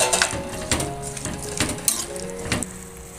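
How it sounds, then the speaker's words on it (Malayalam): Chopped green mango stirred in a pan with water, giving several close, irregular scrapes and wet squishes of a spoon against the pan with a light sizzle behind them. "ഇത് നമുക്കിവിടെ ഒന്ന് ഇളക്കിയെടുക്കാം"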